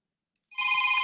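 An electric telephone bell from a 1930s-set Star Trek scene begins ringing abruptly after half a second of silence, a bright sustained metallic ring.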